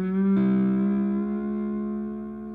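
A lap steel guitar in open G plays a short sustained lick, a slide onto a chord that rings out slightly flat, bright and close, with the notes decaying slowly over a couple of seconds.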